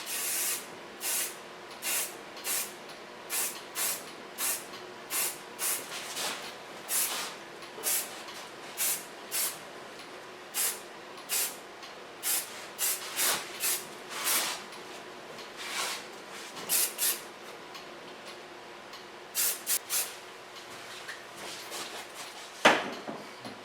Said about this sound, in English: A little bit hairspray, not too much.